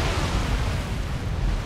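A ship's cannon fires in the game Atlas, a short, loud, broadband boom with a dense low rumble that fills the moment.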